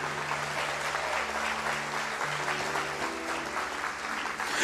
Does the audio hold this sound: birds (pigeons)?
no